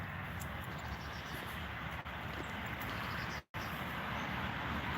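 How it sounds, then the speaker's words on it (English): Steady broadband traffic roar from cars passing along a main road in Ghent, continuous and fairly loud with no distinct individual vehicles standing out. "Apologies for the car noise."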